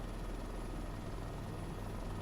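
Helicopter engine and rotor heard from inside the cabin on a long-distance flight, a loud, constant, dense drone and hum with no breaks and no talk.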